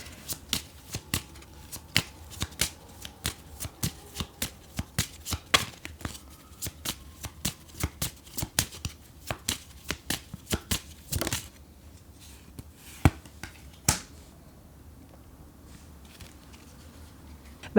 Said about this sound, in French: On va tirer une dernière carte du Lenormand.